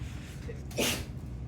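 A single sharp sneeze bursts out briefly over a low background hum, fairly close.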